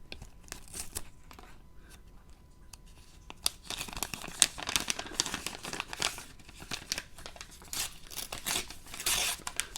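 A heavily taped package being cut and torn open with a knife, with crinkly tape and cardboard crunching and ripping sounds that grow louder and busier partway through, with no talking.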